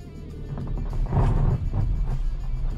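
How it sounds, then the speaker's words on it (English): A 2022 Nissan Versa S with a manual five-speed pulls away on gravel, its engine rising over a steady crunching rumble as the tyres briefly spin and scrabble, close and fairly loud throughout. "I knew I was gonna spin wheels right there"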